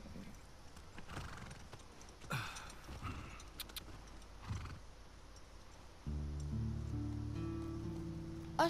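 A horse in The Last of Us Part II whinnies and snorts over steady clip-clopping hooves, then a low droning rumble joins in; game ambience with a brief voice, no clear talk.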